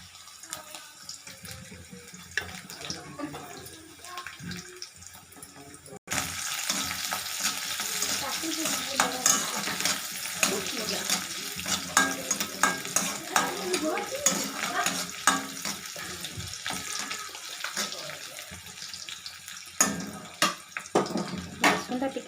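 Garlic frying in a pan for a dish of pumpkin flowers and pumpkin leaves, a steady loud sizzle with stirring scrapes that starts abruptly after a quiet opening and keeps going to the end.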